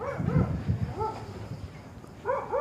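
A dog on a cattle farm gives a few sharp, tonal barks and yelps in short bursts near the start, middle and end, fairly close and distinct, with faint background noise in between.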